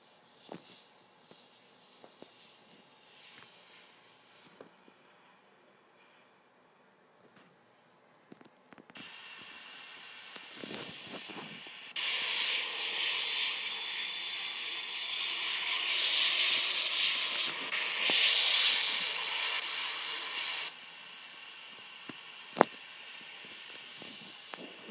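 Airplane engines spooling up to takeoff power, a faint hum rising into a loud steady roar with hiss, accompanied by mechanical thumps and clunks of landing gear retracting, then easing back.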